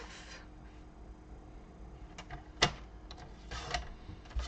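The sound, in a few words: paper trimmer cutting cardstock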